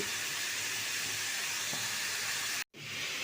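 Five kinds of vegetables for a breakfast curry fry in a pan with a steady, close sizzling hiss, broken briefly by a sudden gap near the end before the crackle returns.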